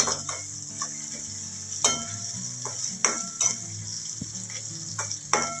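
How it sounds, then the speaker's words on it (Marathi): Ginger frying in hot oil for upma, a steady close sizzle with spoon scrapes and clinks against the pan as it is stirred, with no voices. "जरा गुलाबी होईल तोपर्यंत तळायचं।"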